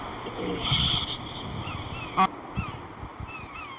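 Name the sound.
bird honking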